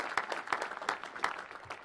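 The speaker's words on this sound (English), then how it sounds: "You can give the Secretary of Commerce a round of applause." Audience applause at a National Space Council meeting, a steady patter of many hands clapping at moderate distance, fairly faint, with no talk over it.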